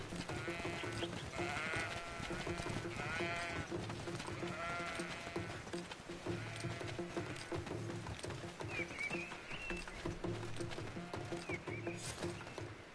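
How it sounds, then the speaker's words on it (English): Goats bleat repeatedly in the video game Greedfall, loud and close over a busy game soundscape, with hoof-like clatter and overlapping calls throughout. "We're being attacked by goats."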